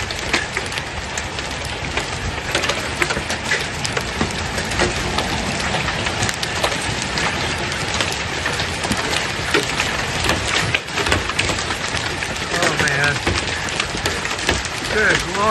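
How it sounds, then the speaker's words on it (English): Hail pounds hard and continuously on a house roof and walls in Wilkie, Saskatchewan, during a destructive storm, a dense clattering roar with occasional voices underneath. "Hank Vleister got hail hammering at his house there"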